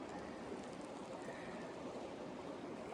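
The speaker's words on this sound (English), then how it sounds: "Hopefully you can hear the sound of the water flowing underneath all of this." Water flows in a mountain stream in the Fitzwilliam Basin backcountry, a steady, even rushing wash that holds a constant low level throughout with no pauses.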